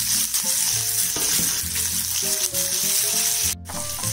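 Ginger, crushed pepper and green chillies fry in a pan with a steady, close sizzle, while a spatula scrapes and stirs in an uneven rhythm and a brief clatter comes near the end.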